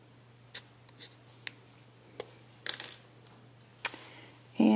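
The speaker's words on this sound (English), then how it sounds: "use a paper piercer to pierce a hole through all these layers" A paper piercer punches through stacked paper layers close up, with scattered small clicks and scratches, a couple of sharper pokes, and a louder rustle at the end over a low steady hum.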